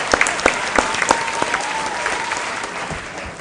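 Audience applause for quiz contestants at a school quiz competition, a steady dense wash of clapping with sharper individual claps standing out, sustained throughout at moderate loudness.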